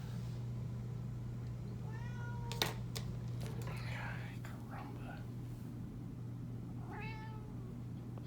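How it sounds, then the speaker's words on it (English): A house cat meows several times, short rising cries around the middle and again near the end, over a steady low hum and soft room noise indoors, with no speech during the calls. "stop meowing all over the place"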